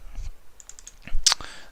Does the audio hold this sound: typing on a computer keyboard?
yes